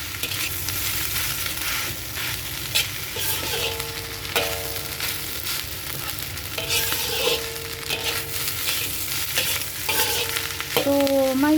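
Fried rice with spring onion is stir-fried in a hot pan, giving a steady close sizzle with repeated scraping and clanking of the spatula as it is mixed, and no one speaking.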